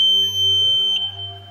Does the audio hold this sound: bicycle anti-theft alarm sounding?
yes